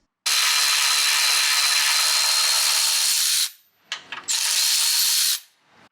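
A ratchet wrench loosening a car's rear 17 mm bolt during suspension bushing work, a loud continuous whirring ratchet spin for about three seconds, a brief pause with small clicks, then another sustained burst, close up.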